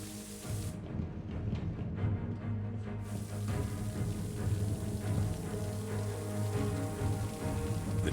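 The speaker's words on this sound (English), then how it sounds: "Suddenly, water begins to pour into the submarine" Water gushes and sprays into the hull of a wartime submarine under attack, a steady hissing, splashing rush with a low rumble beneath, continuous and fairly close.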